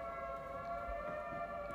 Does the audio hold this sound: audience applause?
no